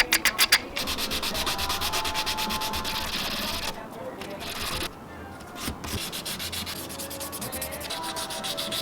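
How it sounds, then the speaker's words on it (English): Steady sanding of a handmade crankbait fishing lure, close and continuous, with rhythmic rubbing strokes and brief pauses where the scraping drops away before resuming. "Gotta clean up the edges with a razor before I start sanding everything."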